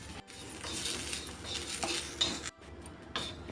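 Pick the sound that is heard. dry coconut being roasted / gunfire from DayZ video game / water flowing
dry coconut being roasted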